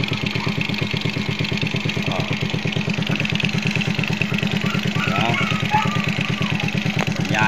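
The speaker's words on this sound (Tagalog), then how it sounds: "Narinig yung palyado." A Smash 110 motorcycle with a carburetor fault idles unevenly, its steady close putter broken by stumbling misfires while someone talks over it.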